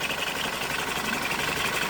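A BMW G31 engine running with a constant tapping noise: a close, steady mechanical whir with fine rapid ticking layered through it, unbroken and even for the whole stretch.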